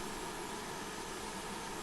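A gas turbine auxiliary power unit on a BAe Hawk T1/A jet trainer in a flight simulator, a steady, faint broadband hiss and whine with no change in pitch or level.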